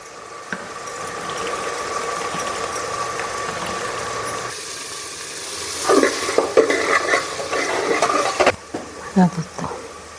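Onion fries in hot oil in a pan with turmeric added, a steady sizzle punctuated by scraping stirs that grow busier and clattery toward the end, with a voice speaking over it.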